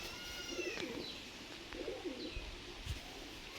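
Pigeons coo softly and repeatedly at Uluberia pigeon market, low rolling calls overlapping amid faint chirps and steady background bustle.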